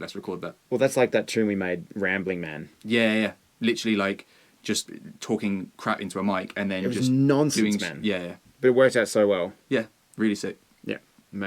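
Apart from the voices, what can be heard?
None of the usual background noises is heard.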